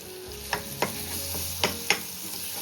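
Steady frying sizzle with several sharp crackles and pops from spices, including garam masala and goda masala, hitting hot oil for a dry fish tempering, close and fairly loud, no voices.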